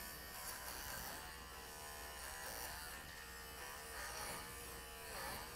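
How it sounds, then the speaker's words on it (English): Wahl Bravura lithium-ion clippers buzz steadily and close by on an Old English Sheepdog, a continuous motorized drone with slight shifts in pitch as the blades work through fur. "you can actually hear this clipper"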